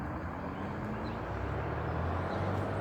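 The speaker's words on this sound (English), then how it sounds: "You can hear a bit of traffic in the background." Distant road traffic makes a faint, steady low rumble behind a countryside riverside walk, with no distinct passing vehicles or voices.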